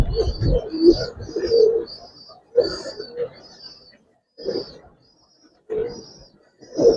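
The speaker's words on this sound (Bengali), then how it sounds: "এটা হচ্ছে মাদি কবুতরটা ভাই" A female Giribaz pigeon coos in low, throaty bursts close by, several separated calls with short pauses between them, alone without talk.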